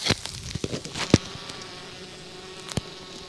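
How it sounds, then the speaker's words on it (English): Honeybees in a hive during a January hive check give a soft, continuous close-miked buzzing hum, broken by a few sharp knocks and crackles of the hive being handled. "That's the sound of a happy hive."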